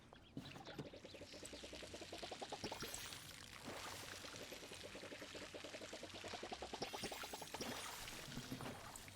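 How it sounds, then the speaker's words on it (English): Water pours onto plants in a video game garden, falling in repeated rhythmic trickling bursts with brief pauses between waterings, steady and moderately quiet throughout. "now I can water them all"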